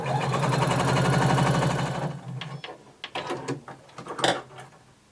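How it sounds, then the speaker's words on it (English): A sewing machine runs a steady burst of stitching along the seam of a flared skirt for about two seconds, then stops, leaving a few faint clicks and handling noises of fabric. "we're going to start to sew from the dot that's just below our notch to the bottom of our skirt"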